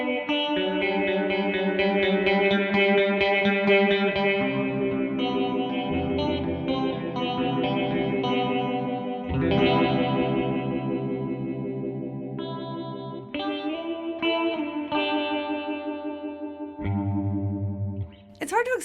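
Electric guitar runs through a ring modulator pedal, giving dense, clangy, metallic chords that sustain and shift in pitch, loud and close with a few abrupt changes and pauses near the end.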